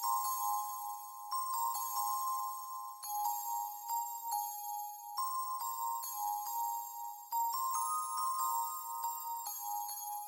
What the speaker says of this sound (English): These bells are called the pretty bells from JV1080.